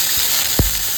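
Tomatoes dropped into hot oil in a pan give a sharp burst of sizzling, set against a steady frying hiss with no voices.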